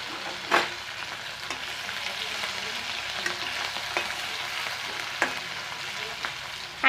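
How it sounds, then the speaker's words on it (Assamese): Banana flower fritters frying in hot oil give a steady close sizzle, with a few sharp pops and light stirring taps now and then and no voices. "এয়া তেল গৰম হৈ গ'ল। এইখিনি দি দিম কলফুলখিনি।"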